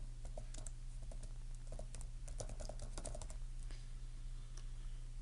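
Keys clatter on a computer keyboard as a username is entered on a web platform. The irregular, quick light clicks sound close but soft over a steady low electrical hum, with no talking.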